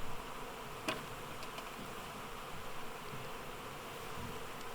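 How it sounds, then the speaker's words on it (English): A honeybee swarm, just shaken from a box into a hive, makes a steady dense buzz at moderate distance, with one brief click early on. "So I just shook all the bees from the box into my hive."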